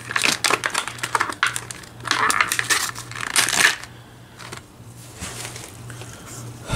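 A knife slicing open stiff plastic blister packaging around an $8 Kershaw Hotwire knife, a run of close crackling, clicking bursts followed by quieter scattered ticks and rustles.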